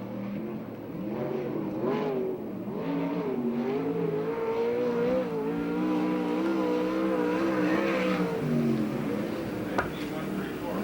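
Sprint car engine at Perris Auto Speedway in a USAC/CRA race, droning loudly and steadily through a lap with rising and falling pitch as it circles the dirt oval, with a voice talking over it throughout.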